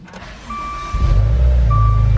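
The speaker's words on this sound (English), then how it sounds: "A little no coolant start right here." A 2015 Maserati Ghibli SQ4 with no coolant cranks and fires up after two chimes. The engine settles into a loud, close, steady idle with no talking.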